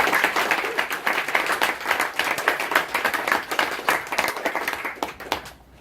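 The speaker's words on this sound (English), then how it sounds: "let's give a big round of applause for everyone who gave a lightning talk" A room full of attendees at a Wikicite conference session wrap-up clapping for lightning talk speakers, a loud, crackling burst of applause that holds steadily and then tapers off near the end.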